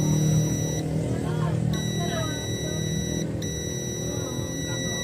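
A multimeter in continuity buzzer mode beeping while probing connections on a JVC SEA-40 graphic equalizer, a steady high tone that cuts off twice briefly, under someone talking.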